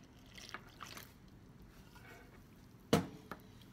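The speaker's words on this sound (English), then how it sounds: "So we're just going to pour it in." Buttermilk for biscuits is poured into a mixing bowl, giving quiet wet glugs and a soft splashy plop, close by and faint in a calm kitchen with no voices.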